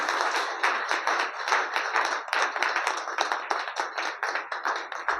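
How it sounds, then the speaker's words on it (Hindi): A live audience claps together at a business seminar, with steady dense applause sustained at full strength and fairly close. "अच्छा एक बार ताली खुल के बजा लो आप लोग"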